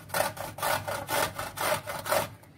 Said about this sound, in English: And now let us grate these.